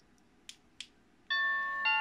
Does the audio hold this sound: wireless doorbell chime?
yes